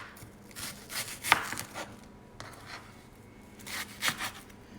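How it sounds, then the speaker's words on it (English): Onions being chopped with a knife on a board, a handful of crisp, separated thuds spread unevenly over a few seconds, close and fairly quiet with no talking. "So we'll move it closer to us as we chop the onions."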